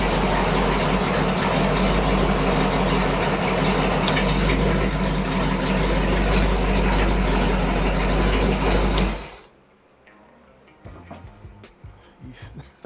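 A rebuilt Ford 390 FE V8 runs loud and rumbling up close with a deep, steady idle for several seconds, then shuts off suddenly, leaving faint scattered knocks and rustles.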